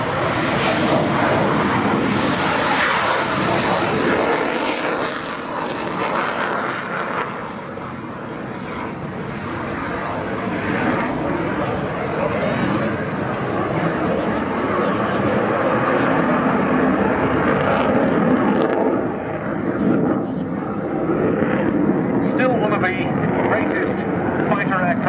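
Belgian Air Component General Dynamics F-16A MLU Fighting Falcon jet performing at the RNAS Yeovilton air day, a sustained loud engine roar rising and falling as it passes, with an announcer talking over it.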